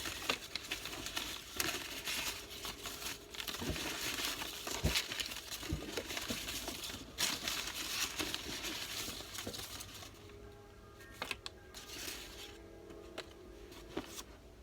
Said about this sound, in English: You have to shuffle now.